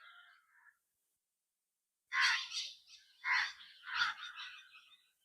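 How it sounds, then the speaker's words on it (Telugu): Storks and other birds call in short, raucous bursts, a faint squawk first, then a pause, then several louder overlapping croaking cries at moderate distance. "కొంగలు, పక్షులు ఎంత సౌండ్లు చేస్తున్నాయో చూడండి."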